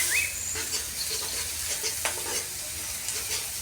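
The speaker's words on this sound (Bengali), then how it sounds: "পেঁয়াজটা ভাজা হয়ে গেছে," Onion fries in very hot oil with a steady bright sizzle, punctuated by soft stirring scrapes, close by and without talking.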